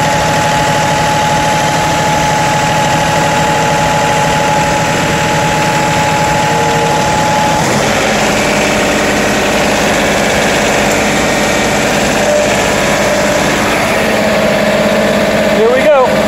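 A John Deere 3038E compact tractor idles in neutral with a loud, steady, close engine rumble and a constant mechanical hum. The tone shifts slightly partway through, and a small squeak comes near the end.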